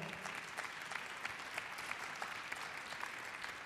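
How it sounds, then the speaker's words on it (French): A French audience at an international city and commerce conference applauds warmly, a steady, even wash of many hands clapping at moderate distance with no talk over it. "je vous propose que nous l'applaudissions chaudement"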